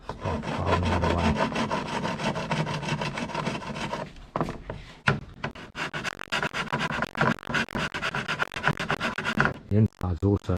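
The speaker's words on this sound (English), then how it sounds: "What I'm going to do first is just use a file." A hand file rasps against the wood of a kayak paddle in steady back-and-forth strokes, close and fairly quiet, with a brief pause partway through and someone speaking at the start.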